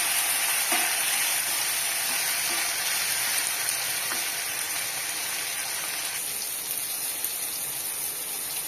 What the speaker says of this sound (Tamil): அதுவும் நல்லா கலந்து விடுங்க. நல்லா சாஃப்ட் ஆகிற வரைக்கும் கலந்து விடுங்க.